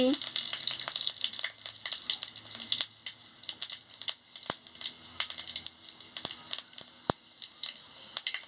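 Five-spice seeds and dried red chillies frying in hot oil in a pan, a continuous close crackling sizzle with sharp pops and spatters scattered throughout, no talking.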